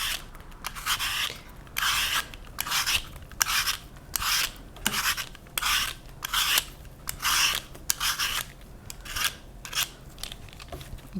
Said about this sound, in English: that is how you peel an apple by hand